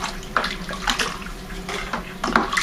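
Bentonite clay powder being stirred into water in a primary fermenter for a Merlot wine kit, with soft swishing and sloshing of liquid and faint scraping of the spoon, close and fairly quiet.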